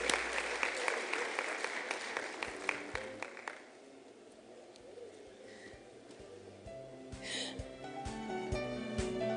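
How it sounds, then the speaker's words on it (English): Audience applause at a women in science awards ceremony for a finalist, loud clapping at first that fades into scattered claps, with faint chatter and bird-like cooing sounds later. "Let's give her a round of applause."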